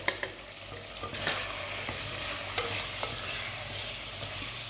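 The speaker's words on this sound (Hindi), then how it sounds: "थोड़ा सा भून लेंगे इसको चिकन को मसालों के साथ।" Chicken pieces frying in a pan with turmeric, black pepper, cumin and salt for Lahori murgh cholay, a steady close sizzle with repeated scraping clicks of stirring throughout.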